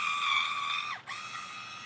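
A Kiss InstaWave automatic hair curler turns with a thin, whirring motor whine that briefly dips in pitch, as if straining, then resumes, close and alone.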